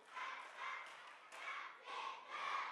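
A room of children at a church children's Daniel prayer meeting clap the rhythmic attention clap together, a few dense crowd bursts in quick succession, loud and close with a lively group shout-like texture.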